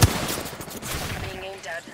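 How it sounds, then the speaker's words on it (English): Enemy gunfire in a video game, a burst of rapid shots at mid distance over a busy in-game soundscape, with a faint tonal game cue near the end. "The enemy are shooting at me."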